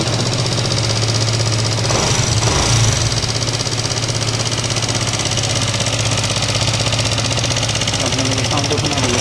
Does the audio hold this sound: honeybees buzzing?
no